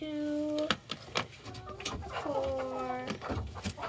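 Chickens and other fowl in a coop give overlapping clucks and calls, mixed with clattering handling sounds, steady and close throughout.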